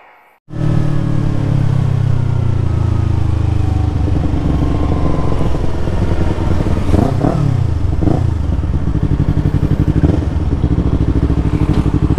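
Loud, close motorcycle engines, Harley-Davidson bikes among them, rumble steadily as a group rides along a road in Bohol, with a deep throbbing idle and occasional rising revs over continuous road noise.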